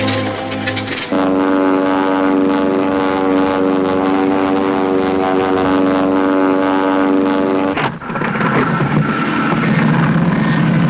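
A propeller airplane in flight from the 1939 film Nancy Drew... Trouble Shooter drones loudly and steadily with a humming engine tone, ending in a more rushing, windy engine roar.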